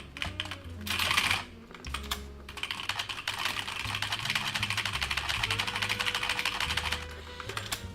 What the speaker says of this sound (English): I like the keyboard noises.